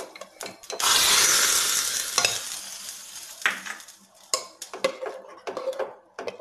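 Fried garlic tempering poured into a pot of Kerala-style kadala (chickpea) curry bursts into a loud sizzle, fading over several seconds, followed by brisk stirring and clinks of a spoon against the pot.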